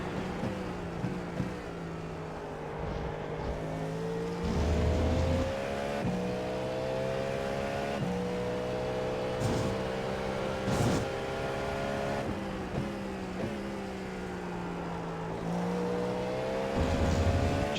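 Cadillac V-Series.R prototype in iRacing at Road America, engine note rising and falling through steady revving and shifts with tire scrub as the rear slides in throttle-on oversteer, loud and continuous with no talk.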